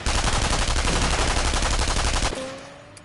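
Rapid rifle fire in Sniper Elite VR, a dense continuous burst of loud shots that stops abruptly, followed by a faint ringing tone as the sound decays, no voices.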